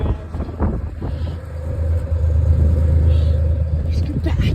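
A Ford Ranger engine fitted with a new exhaust tip starts and runs, a deep steady rumble that builds in loudness and stays close and continuous.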